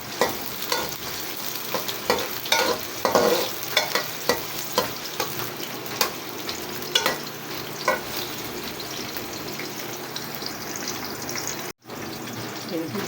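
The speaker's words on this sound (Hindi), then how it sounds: "प्याज को हल्का सुनहरा कर लेंगे।" Sliced onions frying in hot oil in a pan for khichri, a steady close sizzle with stirring scrapes throughout and a brief drop near the end.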